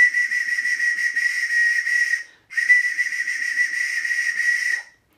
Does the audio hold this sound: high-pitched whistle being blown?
yes